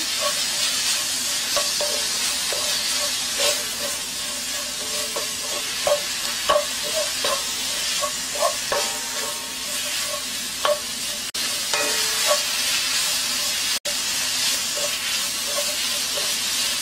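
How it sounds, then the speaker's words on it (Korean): Chili powder stir-fries in a hot pan for a seafood jjamppong broth, giving a loud, continuous sizzle and hiss with scattered spatula scrapes and clicks up close, and no talking. "고춧가루 한 수저 정도를 넣어서 이렇게 볶아주겠습니다"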